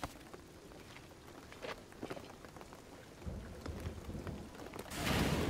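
Steady rain falls in the video game Shadow of the Tomb Raider, a dense wash of drops with scattered louder patters and a swelling burst at the end, with no talk.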